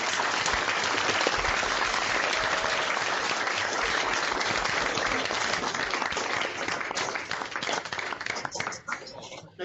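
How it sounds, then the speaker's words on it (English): Students applaud over unmuted microphones on an online Pro Football Hall of Fame session, producing a long, dense, compressed-sounding wash of clapping that thins toward the end. "join me in giving a warm round of applause"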